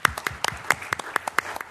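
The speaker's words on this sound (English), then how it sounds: "Let's give them a round of applause." A handful of people clap for city commissioners at a West Covina city council meeting, about a dozen distinct, sparse claps rather than full applause, fairly close and brief, with no talking.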